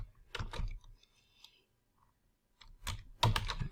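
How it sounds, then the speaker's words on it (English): Typing on a computer keyboard in quick clattering bursts of key clicks, separated by a short quiet pause, close and fairly clear. "My keyboard is not being too cooperative."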